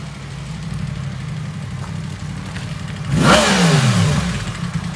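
Motorcycle engine arriving in the rain: steady rain hiss and a low idle give way to a louder revving motorcycle that rises in pitch as it pulls up nearby.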